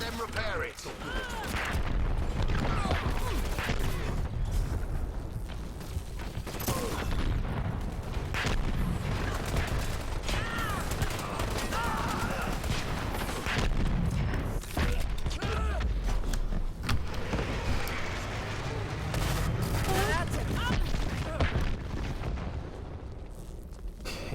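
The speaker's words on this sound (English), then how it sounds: "one of the classes can call in airstrikes" Booming airstrike blasts and scattered gunfire from the video game Dirty Bomb rumble steadily throughout, loud and continuous with sharp crackling bursts layered over a heavy low-end roar.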